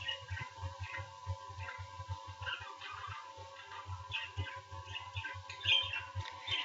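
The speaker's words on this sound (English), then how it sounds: "My birds are singing today." Pet birds sing indoors, a steady chorus of small chirps and tweets running throughout, fairly faint and continuous against a low rhythmic hum of room machinery.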